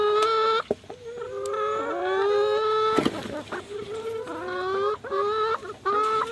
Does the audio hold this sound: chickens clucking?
yes